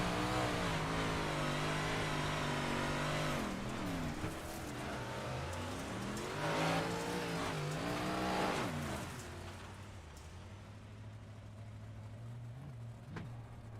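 A 358 modified race car at Port Royal Speedway, heard onboard: a loud, continuous engine roar that rises and falls in pitch through throttle changes, then settles to a lower drone near the end.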